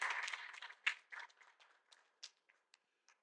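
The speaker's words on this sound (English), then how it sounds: "Can we give them a round of applause, please?" Scattered audience applause at a clean energy finance and investment training in Abuja, starting as a brief modest round of clapping and thinning out to a few isolated claps, fairly faint.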